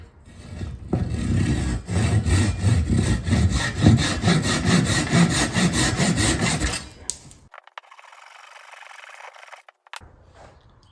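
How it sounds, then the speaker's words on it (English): A Japanese hand saw cuts off wooden dowels on a DIY entryway bench, giving loud, close, rhythmic back-and-forth rasping strokes for about seven seconds, then quieter scraping and handling noises. "I guess we have to cut them with the Japanese saw for YouTube,"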